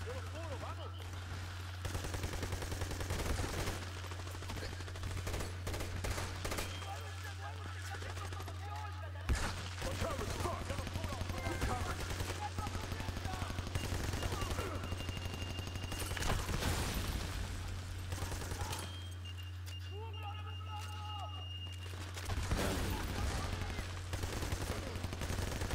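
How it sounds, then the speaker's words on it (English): Bursts of blind-fire gunfire rattle from Army of Two: The Devil's Cartel, with repeated rapid volleys and scattered single shots, separated by brief lulls and mixed with faint background voices. "Just blind firing, trying to kill everything."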